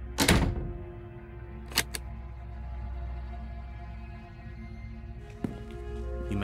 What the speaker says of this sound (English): I heard the door